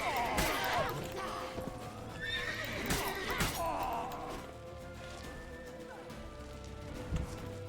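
A horse in The Witcher 3 neighs loudly amid game action, with a sharp crash or thwack and scattered hoof clatter, a whinny rising over busy background noise near the start and again around three seconds.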